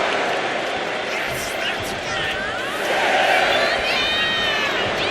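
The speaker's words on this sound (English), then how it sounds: "And Nia is revving this crowd up." A wrestling arena crowd in the WWE 2K25 video game roars and cheers in a dense, continuous wash that swells louder midway, with a commentator talking over it.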